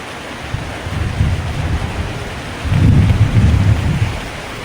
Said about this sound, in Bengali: দেখেন কি বৃষ্টি হইতেছে